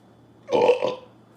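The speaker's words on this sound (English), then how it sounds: "I got a belch and I can't edit it out" A single loud, close belch lasting about half a second, rough and throaty, with quiet background hum before and after.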